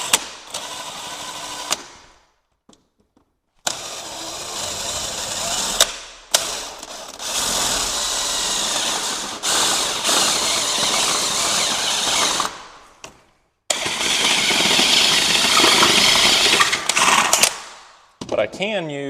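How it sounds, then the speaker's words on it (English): Step drill bit cutting through thin metal while installing a sliding patio door foot lock: a loud, grinding whir runs in several long bursts separated by short pauses, ending with a faint ratcheting noise. "It's made for cutting through thin metal, or drilling through thin metal,"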